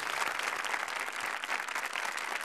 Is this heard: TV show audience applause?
yes